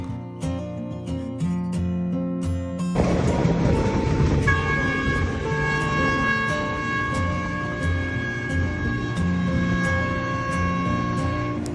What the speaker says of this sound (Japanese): この電車はなぜかかなりの頻度でとてもうるさいクラクションを鳴らしました。